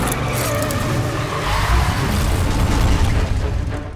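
A car drives hard over cobblestone streets in Rome during a film chase stunt, a steady, loud rumbling engine and tire roar that swells slightly toward the end, with no talk.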